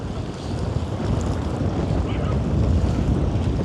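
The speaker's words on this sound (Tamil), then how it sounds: "அலை சத்தம் தான் கேட்குது" Waves wash and roar continuously against the shore, a dense rushing surf mixed with wind buffeting the microphone.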